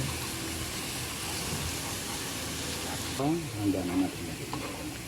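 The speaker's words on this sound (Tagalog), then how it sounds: "Papulahin lang po natin mabuti yung bawang or mag-brown." Garlic sizzling steadily in a hot pan, a dense continuous hiss of frying with occasional stirring scrapes, while someone speaks over it.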